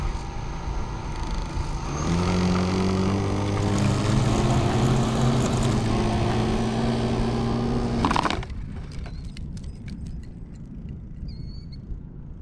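Cycloidal rotor model airplane taking off: a loud motor whir rises in pitch over several seconds with rumbling, then cuts off abruptly, followed by faint scattered clatter and knocks.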